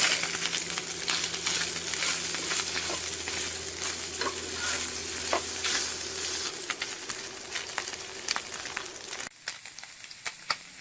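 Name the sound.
Spam browning in a frying pan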